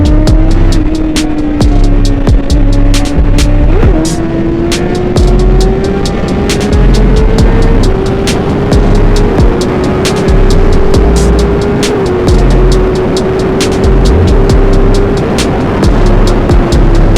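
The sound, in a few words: superbike riding past at a bike meet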